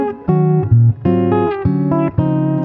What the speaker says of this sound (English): I've had fun rolling the tone back quite far on the rear pickup.